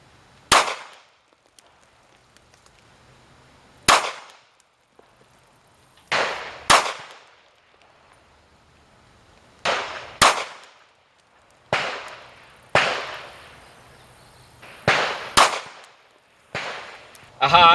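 A Seecamp .380 pistol fires Federal Hydra-Shok 90 grain rounds as sharp, loud single cracks spaced a second or two apart, about ten shots, each with a short decaying tail and quiet between.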